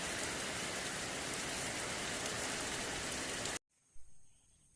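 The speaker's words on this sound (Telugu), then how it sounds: "ఈ వానని ఎవడు రమ్మంటాడు ఏమో కానీ అంతా చెడిపోనికనే వస్తుంది ఫ్రెండ్స్ ఈ వాన అయితే" Rain pours steadily over farm fields in a dense, loud hiss that cuts off abruptly near the end, leaving a faint quiet background with a brief thump.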